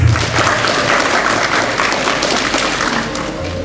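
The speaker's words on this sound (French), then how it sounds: "Applaudissez pour vous-même" Audience in a 500-seat university lecture hall applauding themselves at a semifinal event, a dense, steady round of clapping that holds throughout.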